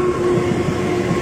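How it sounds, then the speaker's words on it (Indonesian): A commuter train thundering straight through a KRL station near Cikarang without stopping, a loud close continuous rumble with rhythmic wheel clatter and a steady hum throughout. "Ini ada kereta melintas langsung."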